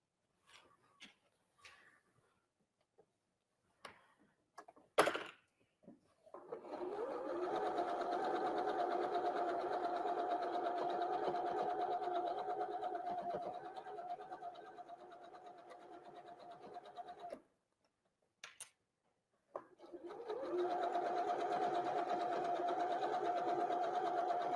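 A sewing machine runs in two long, steady bursts while stitching a quilt block with a quarter-inch seam, its rapid mechanical whir close and even, with a few clicks and handling noises before and between runs.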